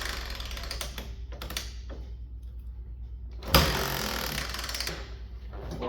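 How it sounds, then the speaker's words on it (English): The kick-starter of a Honda Big Red that barely grips is worked, giving mechanical ratcheting clicks and clunks, one sharp loud kick midway, and no engine catching. "when I kick it over, it doesn't really feel like it's grabbing much."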